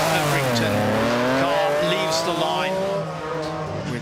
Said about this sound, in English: with that 3-litre V6 engine right behind the driver and the co-driver. Noisy as anything behind them.